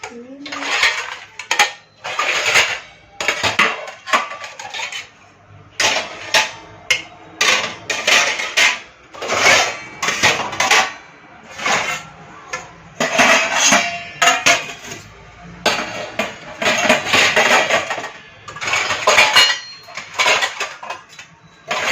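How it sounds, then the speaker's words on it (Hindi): Steel utensils and dishes clatter and clink one after another as they are set into a kitchen dish stand, a steady run of close, loud metallic knocks and rattles with short pauses between them. "बर्तन लगा ली मैंने स्टैंड में"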